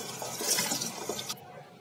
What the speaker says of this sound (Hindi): अब मैं इसमें थोड़ा सा ठंडा पानी ऐड करूंगी ताकि मेरे अंडे ठंडे हो जाएं